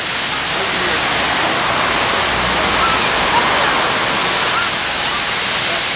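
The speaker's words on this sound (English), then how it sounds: "This is all natural spring water." A natural spring-water waterfall near a cave, a loud, steady, close rushing roar of falling water that fills the whole stretch without a break.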